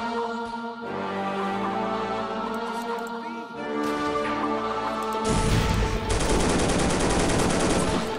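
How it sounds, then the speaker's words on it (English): A tank firing armour-piercing shells in the World War 2 strategy game Soldiers: Heroes of World War 2, with booming shots and crashes over battle ambience, building to a loud, dense burst of fire near the end. "I really shouldn't be firing at infantry with AP shells"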